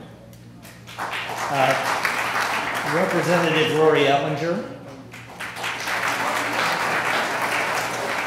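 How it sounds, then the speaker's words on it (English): Applause from a crowd at a 2012 Bill of Rights celebration, a broad steady clapping that carries on beneath a man announcing guests over a microphone. "a round of applause"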